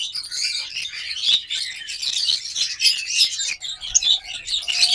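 A pair of lovebirds, a green wing and a green opaline, chirp continuously in dense, close, high-pitched twittering with rapid overlapping calls and no talk.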